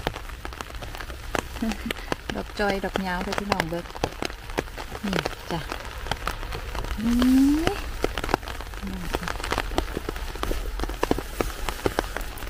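Steady rain patters on leaves and the ground in a forest during mushroom picking in cold 6-degree weather, a constant wash with scattered louder drops while a person talks throughout.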